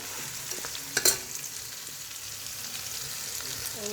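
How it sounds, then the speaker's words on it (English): Garlic frying in a pan for beef chutney, a steady close sizzle with a brief clatter of stirring partway through. "So I'll fry some time and I'll put garlic."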